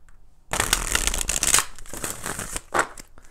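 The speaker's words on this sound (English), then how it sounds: "let's go ahead and do four shuffles" Rapid crackling riffles of tarot cards being shuffled, several quick bursts close by, ending with a short final flutter.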